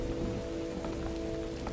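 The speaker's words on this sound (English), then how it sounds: "Raining for several days now." Steady, dense rain pours down continuously in the background of a historical Chinese drama scene, a constant hiss with no voices or other sounds over it.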